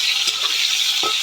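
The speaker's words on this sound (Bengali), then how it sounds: "শুকনো লঙ্কা, জিরা দিয়ে ভালো করে লাল করে ভেজে নেব" Bay leaf, dried red chilli and cumin seeds fry in hot oil in a home kitchen for a Bombay duck curry, a bright continuous sizzle with a couple of brief stirring scrapes, close and loud, no talking.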